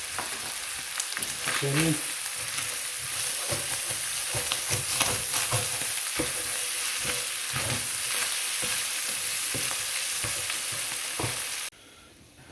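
Tomato paste sizzling in a hot pan while being stirred, steady crackling fry with repeated scraping spoon strokes, a single spoken word briefly over it, before the sizzle cuts off abruptly at the end.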